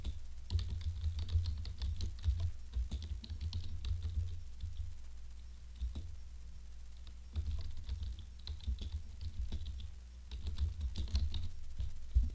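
Steady clatter of typing on a computer keyboard during a Scratch coding session, quick irregular key taps running almost continuously with a couple of brief pauses, close and clear with no voices.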